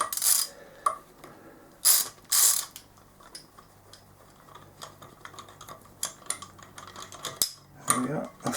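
Ratchet socket wrench with a long 11mm socket backing a bolt out of a BMW F650GS motorcycle engine during a top-end strip-down, giving several short bursts of close clicking between quiet workshop handling noises.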